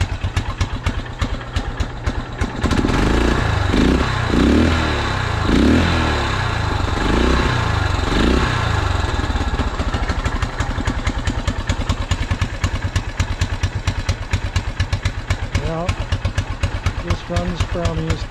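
A 1974 Honda XL250 motorcycle engine idling and running roughly, a close, uneven thumping putter with a few throttle blips, while someone talks over it.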